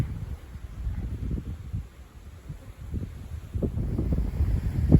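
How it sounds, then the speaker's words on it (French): Mistral wind gusts from the northwest at close to 70 km/h before a summer thunderstorm, roaring and buffeting the microphone in uneven low rushes that swell and ease. "Donc là vraiment un temps de Mistral."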